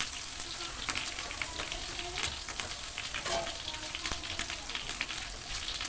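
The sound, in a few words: rice being roasted in a pan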